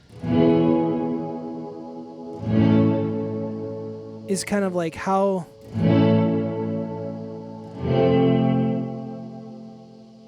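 A Death By Audio Rooms reverb pedal with its gate engaged: sustained guitar chords bloom into washy reverb that cuts off as the gate closes, with a squealing pitch-bent burst in the middle, and someone talks over parts of it.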